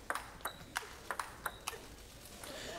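A women's finals table tennis rally between players using pimpled (pips) rubber, about eight crisp, bright ball ticks in a quick, even back-and-forth rhythm over a low hall ambience.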